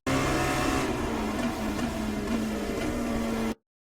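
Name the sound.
Dallara P217 engine downshifting to first gear, iRacing video game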